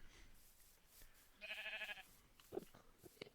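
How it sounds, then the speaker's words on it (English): A single wavering Minecraft sheep bleat, short and fairly clear, among faint background clicks and quiet noise. "Sheep."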